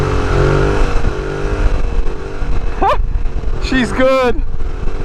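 A Yamaha MT-07 motorcycle fitted with a new aftermarket exhaust gives a loud, rough engine note with sharp rising revs near the end, and a rider's voice speaks over it.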